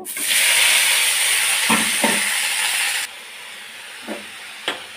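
Radish greens tossed into a hot pan with dried chillies, a loud steady sizzling hiss for about three seconds that then drops to a softer crackle, with a few stirring knocks.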